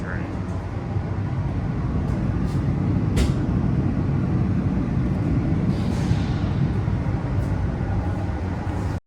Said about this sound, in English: This is the silver line train.